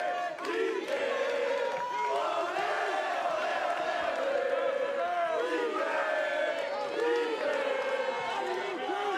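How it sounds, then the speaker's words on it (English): The Wake Forest men's tennis team chants and yells in unison for their player during an NCAA team final against TCU, a loud, rhythmic group cheer of rising and falling shouts that continues steadily throughout. "It's the Wake team cheering for DK Suresh."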